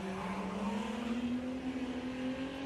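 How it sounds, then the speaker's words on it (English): A Holman Gemini race car with a Holden Commodore V6 engine drones at a steady pitch that slowly rises as it accelerates at a historic sprint event, heard from a distance with a rough, buzzing tone. "Holden Commodore V6 engine in that very aggressively driven Gemini."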